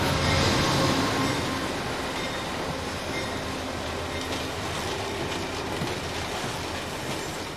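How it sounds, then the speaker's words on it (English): Amtrak passenger train 683 pulling into the station at Exeter, New Hampshire, a steady rumbling rail roar with faint wheel clatter and squeal, continuous and fairly near throughout. "At 1:15, Amtrak 683 arrived in Exeter, New Hampshire, about an hour from Saco."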